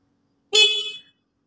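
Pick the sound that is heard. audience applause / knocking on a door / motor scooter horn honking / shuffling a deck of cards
motor scooter horn honking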